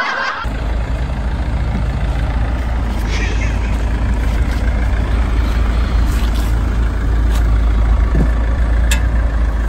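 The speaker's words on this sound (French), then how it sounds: "On entend bien le moteur, là." A diesel car engine runs in a steady, loud, close low rumble. Voices talk over it throughout.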